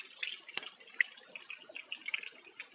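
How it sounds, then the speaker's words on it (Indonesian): Mountain spring water runs steadily from three taps at a nature spot in Sumberboto, Jombang, a soft continuous trickle and splash with a few brief drips standing out, fairly faint and heard alone. "Nah, ada 3 keran atau 3 pancuran."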